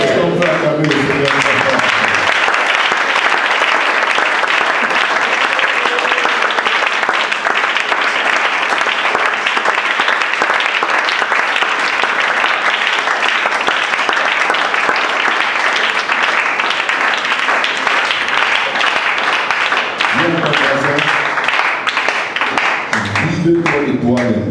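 A church congregation applauding and cheering in sustained loud clapping that runs for about twenty seconds, with a voice speaking briefly before and after.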